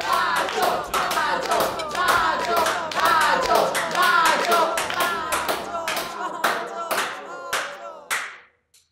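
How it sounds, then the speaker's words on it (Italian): A crowd breaks into sustained applause, dense clapping from many hands that thins out and fades near the end. "Un applauso, un applauso."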